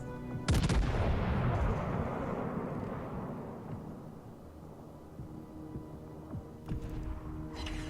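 Battleship gun salvos boom in World of Warships Legends, one sharp heavy blast followed by a long rumbling decay and a second, lighter report near the end, with no voices.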